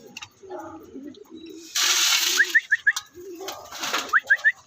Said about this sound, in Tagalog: Ito na yung mga ibon ko.